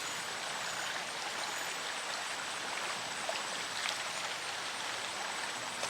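Steady broadband rush of a stream flowing just above a waterfall, a continuous even wash of water with no breaks, close and moderately loud on its own.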